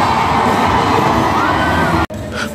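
Loud crowd cheering and shouting at a New Year's Eve midnight mass at Saint Marc parish in Yopougon, a dense roar of voices that cuts off abruptly near the end, leaving faint murmur.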